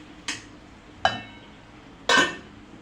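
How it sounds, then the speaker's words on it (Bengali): Beef and potato curry stirred in a cooking pot, heard as three separate metallic scrapes and clinks of a utensil against the pot, each brief and fairly close, with quiet pauses between and no talking. "এখন নেড়ে ছেড়ে আরও বেশ কিছুক্ষণ সময় নিয়ে আমি মাংসগুলো কষে নেব।"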